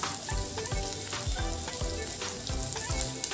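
Roughly chopped onions fry in hot oil over medium heat, giving a steady, close crackling sizzle with soft scrapes of stirring all the way through and no talking.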